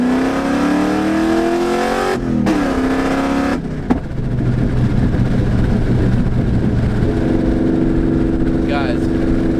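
A cammed Mustang with an H-pipe and straight-pipe axle-dump exhaust, mufflers removed, rumbles loud and close with a deep lopey idle and rising revs, while people talk over it.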